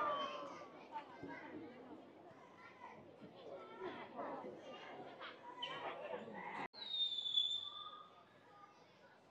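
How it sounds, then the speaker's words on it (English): Fireworks launching into the sky near an outdoor village basketball game in Batang Village, YunFu, China, faint distant pops and a rising whistle heard under children's voices and crowd chatter. "we have fireworks letting off up into the sky"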